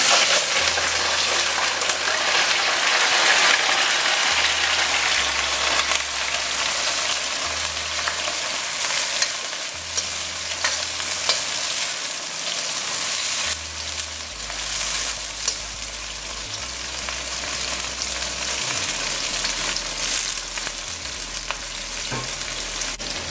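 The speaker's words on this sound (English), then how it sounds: "the first thing we're going to do is fry the shrimp" Shrimp frying in a pan for saijan bhaji: a loud, continuous crackling sizzle that holds steady for over twenty seconds, close up, with no voices.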